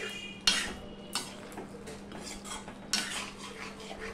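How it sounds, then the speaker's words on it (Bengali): A spoon stirs pumpkin curry with ghee in a metal pan: a few distinct clinks and scrapes of utensil on pan over a faint background, quiet and close. "ঘিটা দিয়ে আমি সম্পূর্ণটা দেখো মিশিয়ে নিচ্ছি"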